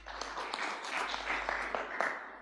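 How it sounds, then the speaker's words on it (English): Audience applause at an ICC Kenya forum on e-mobility and charging infrastructure, greeting a moderator coming to the stage: steady, moderately distant clapping from a mid-sized crowd, fairly even throughout with no talking over it. "let's welcome her with a round of applause."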